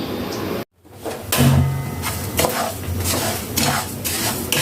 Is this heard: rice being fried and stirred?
yes